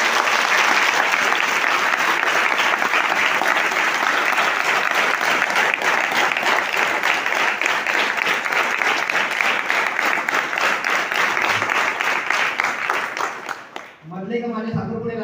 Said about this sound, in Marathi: एकदा टाळ्या वाजूया आपण सगळ्यांनी,